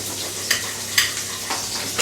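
Onion and garlic frying in extra virgin olive oil give a steady, close hiss of sizzling, broken by a few brief stirring scrapes, with no voices.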